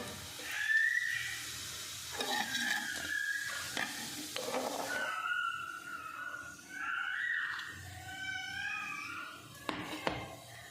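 Cumin sizzles in a hot kadhai for a pumpkin curry with a soft, close crackle and occasional spatula scrapes, followed later by faint whining tonal sounds over the quiet frying.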